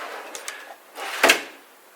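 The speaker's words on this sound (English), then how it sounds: "If we slam them, you'll see they slowly close nice." A soft-close side mount drawer slide is pushed shut, with a couple of light clicks, a short rolling slide, then a soft thump as it settles, close and moderately loud.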